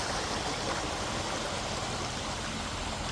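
Waterfall near a childhood home in a low-water season, a steady, dense roar of falling water filling the whole scene without a break.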